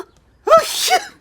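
A cartoon character lets out a single sneeze, a short sharp intake and burst, clear and close, with no talk during it.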